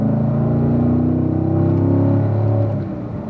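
A race car accelerating through a track lap, its engine note rising steadily with strong harmonic layers, loud and close, then easing slightly near the end with no talking.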